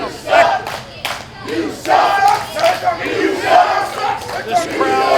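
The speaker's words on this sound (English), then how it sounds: "This crowd coming together, voicing their displeasure." Wrestling crowd at a Mid-Atlantic Territory Wrestling TV event voicing displeasure, loud rolling boos and jeers rising and falling in several surges across the arena, with scattered shouts and a little clapping.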